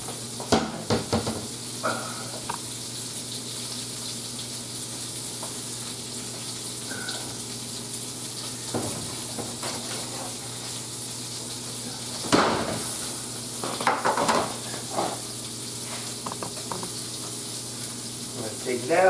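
Coffee and pepper coated steak sizzles steadily in a hot pan, a constant frying hiss running throughout with occasional clinks and scrapes of utensils and a few louder bursts near the end; no one speaks.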